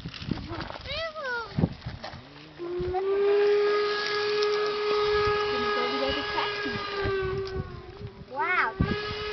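A steam locomotive whistle from the era of the Transcontinental Railroad sounds one long, loud, steady tone lasting several seconds, with brief voices and other noises before and after it.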